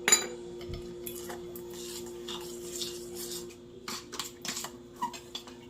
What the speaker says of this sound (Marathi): आता चमच्याने मिक्स कर.